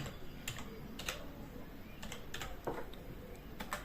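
Quick bursts of keystrokes on a computer keyboard, close and fairly quiet, in short irregular runs separated by brief pauses.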